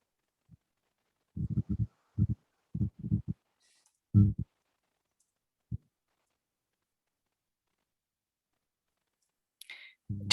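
Someone types on a computer keyboard during a planning and zoning meeting, producing bursts of muffled, close key clicks in quick clusters separated by silence, with a brief faint noise near the end.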